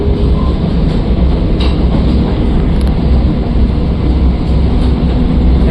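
Chennai–Mysuru Vande Bharat train in motion, a loud continuous rumble of wheels and rail noise heard from on board, steady with faint clicks and no talking.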